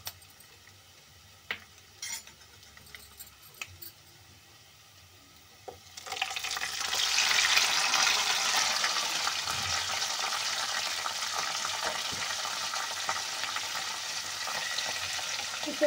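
Mashed mustard greens go into a pan and fry, starting with a few faint clinks and stirring taps, then a steady close hiss and sizzle that holds to the end.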